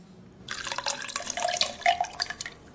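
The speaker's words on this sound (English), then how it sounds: "Pour me a glass of water." Water splashes and trickles into a glass in a radio comedy sketch. It starts abruptly after a short quiet and runs as a close, bright, bubbling pour for about two seconds before tapering off, with no talking.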